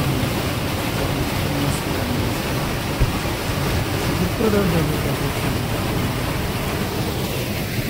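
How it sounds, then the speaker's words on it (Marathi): The Tarchon waterfall near a village roars as a dense, steady rush of falling water, loud and unbroken, while a voice briefly speaks over it. "कोणता धबधबा फॉल जवळ आहे, तरचोन फॉल."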